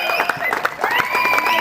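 Audience clapping at a youth basketball tournament ceremony at a college in Hyderabad, a steady patter of many hands close by with a voice speaking over the applause.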